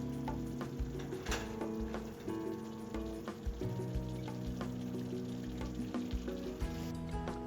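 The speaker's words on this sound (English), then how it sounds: "Stir and simmer for a few minutes, then turn off the heat and our sauté is ready." A vegetable sauté for Ukrainian borscht sizzles quietly in a pan while it is stirred, giving a steady soft crackle broken by light scraping strokes, with no voices.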